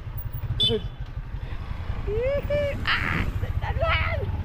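A motorcycle carrying several riders putters along at a steady idle-like rhythm, its low engine pulse running throughout while children and adults talk and call out over it.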